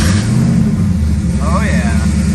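A Ford drag car's engine runs with a loud, heavy low-pitched rumble throughout, close by, with a voice speaking briefly over it.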